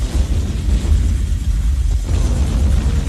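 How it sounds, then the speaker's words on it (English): A deep, continuous rumbling roar of distant explosions, low and heavy, rolling without clear breaks. "Somewhere behind them they heard explosions."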